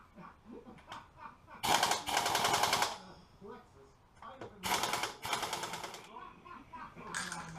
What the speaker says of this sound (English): So we're going to loosen up these lug nuts, pull the wheel off